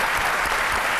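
A television studio audience applauds on a midday show, a brief, dense burst of clapping filling the room at steady volume.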